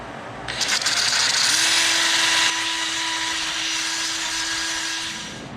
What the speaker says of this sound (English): I'm just going to go to sanding and see if we can work it out.